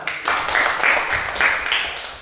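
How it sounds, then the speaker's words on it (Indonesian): A classroom group claps in short rhythmic bursts, a brief, fairly close round of applause that fades out quickly. "Oke, silakan tepuk tangan."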